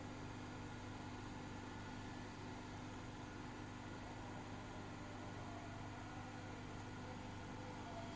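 An electric motor running steadily after star-delta starting, a constant low hum with a fixed tonal drone and even mechanical noise, unchanging and fairly quiet throughout.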